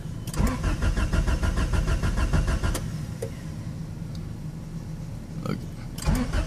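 A Honda Prelude that has trouble starting cranks and fires up, its engine running with a steady, close, loud mid-pitched rumble throughout and a brief clunk near the end.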